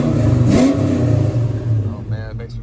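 A 1989 Ford Mustang GT convertible engine revs up close in one quick surge, then settles back to a rumbling idle as someone speaks.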